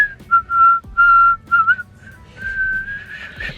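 A person whistles a short series of clear, sustained notes with brief pauses between them, followed by a longer, airier whistle that fades toward breath.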